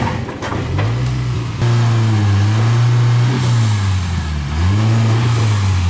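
A drift car with a big turbo engine is eased up onto a trailer, its loud, close exhaust note swelling in short blips and falling back between gentle throttle rises.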